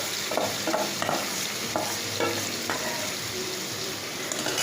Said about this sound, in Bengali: এবার মাংসটাকে কষাতে আরম্ভ করব।